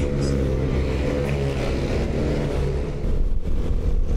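A vehicle accelerating on a night ride through Calamba, Laguna toward Pansol, its engine droning loud and steady with low rumble throughout and a brief surge near the end.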